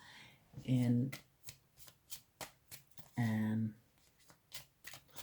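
Tarot cards are shuffled in two quick riffling bursts, each followed by a string of soft taps and flicks as cards are handled and laid down, close and fairly quiet.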